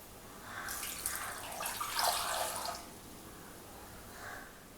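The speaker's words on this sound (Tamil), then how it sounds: "இப்போ இந்த நெல்லிக்காய் முங்குற அளவுக்கு நம்ம கொஞ்சம் தண்ணி ஊற்றிக்கணும்." Water pours into a pot of gooseberries (amla) while an instant pickle is made, a steady splashing stream lasting about two seconds, then a brief softer pour, close up with no talk.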